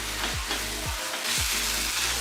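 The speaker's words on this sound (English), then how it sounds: "Cook the masala on the low flame for 5 minutes." Masala of coriander and cumin powder frying on a low flame, a steady close sizzle with a few soft scrapes of stirring, no voices.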